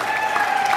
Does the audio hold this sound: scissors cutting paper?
no